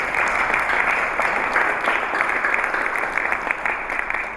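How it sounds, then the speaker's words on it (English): An audience at a formal awards evening in Bahrain gives a round of applause, steady dense clapping from a full room that carries evenly for several seconds with no talk over it. "A big round of applause."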